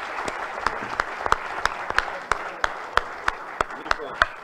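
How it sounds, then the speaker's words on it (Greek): An audience at an economic forum award ceremony claps in a steady, evenly spaced rhythm, sharp strikes repeating about three times a second while a voice carries on over the applause. "Ένα λαμπρό χειροκρότημα"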